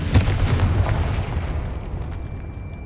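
A Confringo fire spell exploding in a Harry Potter video game, a loud booming blast at the start that rolls into a long rumbling decay and fades out.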